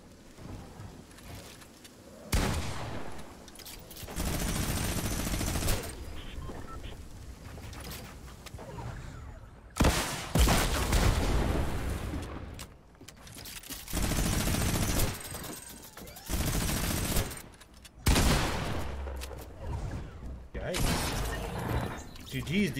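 Minigun fire in the Fortnite battle royale video game: several loud, sustained bursts of rapid automatic shots separated by short pauses, with dense crackling impacts running through each burst.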